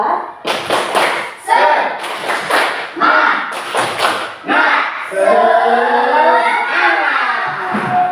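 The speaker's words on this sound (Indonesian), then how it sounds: "ya kita tepuk semangat dulu, ya. Siap? Tepuk semangat 4." A group in a teacher-training class session performs a rhythmic Indonesian spirit clap chant, with bursts of patterned clapping and voices chanting along loudly, close and energetic, ending in sustained group vocalizing.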